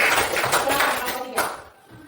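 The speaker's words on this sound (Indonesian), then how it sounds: "Berikan tepuk tangan untuk kelompok 3." Short round of applause for a student group at a classroom presentation, a quick patter of many hands clapping that trails off after under two seconds.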